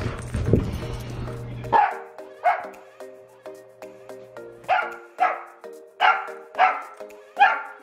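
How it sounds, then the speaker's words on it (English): A corgi barks at a laser pointer, giving about eight sharp, loud barks at a fairly regular pace after a brief whimpering start, close to the listener. "So you heard Biggie barking at me to move the laser"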